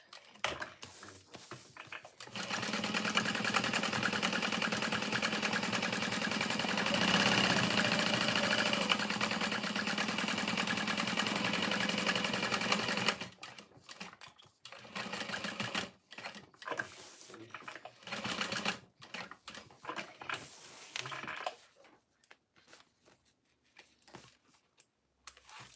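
A sewing machine back stitches on a fold-over bag, running in a long steady whir for about ten seconds, then breaking into short choppy stop-start bursts and fabric handling.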